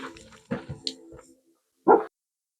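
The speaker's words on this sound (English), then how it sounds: "And the dogs just go crazy." Dogs react to a delivery at home with a few sharp barks and whimpers, fairly close, followed by a short silence and one loud final bark.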